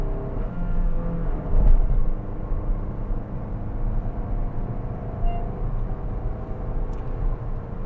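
Honda Elevate engine revving hard toward the top of its range while driving, a steady loud drone with road rumble filling the cabin throughout.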